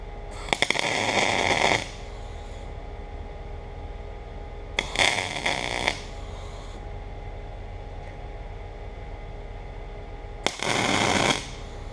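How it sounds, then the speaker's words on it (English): Metal plate being welded in a workshop: three separate bursts of harsh, crackling hiss, each lasting about a second or more, separated by quieter stretches of steady background hum. "what I'm going to do is be welding it out"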